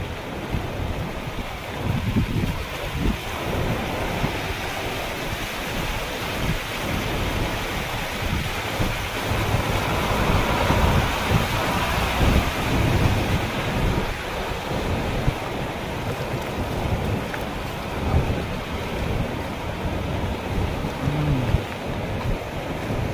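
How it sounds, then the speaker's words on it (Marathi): Floodwater from a swollen river near Dhanora Kale in Parbhani pours over a bridge, a continuous loud rushing roar with wind buffeting the microphone. "बघा ह्या लाटा मित्रांनो."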